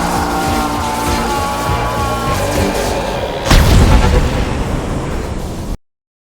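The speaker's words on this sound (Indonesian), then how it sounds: "Ledakan ini memang tidak menyakiti siapapun, tetapi semua robot lumpuh dalam hitungan detik" An EMP device blast in a film: a dense, rumbling action soundtrack suddenly breaks into a loud, heavy boom with a deep, rolling low-end tail, and then everything cuts off abruptly.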